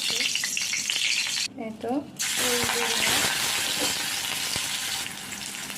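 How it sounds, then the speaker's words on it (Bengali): Dried red chillies frying in oil with leafy greens, a steady sizzle broken by a brief pause with a short spoken remark, then clattering stirs and running water in the background. "এখন একটু দুটো শুকনো মরিচ ভেজে নিব"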